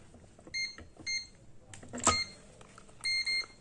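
A multimeter's continuity buzzer beeps while probing a fuse on an air conditioner's inverter indoor circuit board: several short, quiet electronic tones come in separate bursts over a low background hiss.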